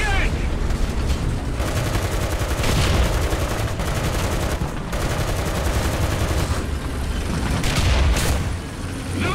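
Dense, continuous tank machine-gun fire in War Thunder, loud and sustained with bursts of booms and explosions blending into a thick roar throughout.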